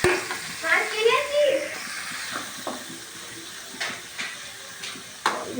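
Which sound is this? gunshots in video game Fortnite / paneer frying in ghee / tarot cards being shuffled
paneer frying in ghee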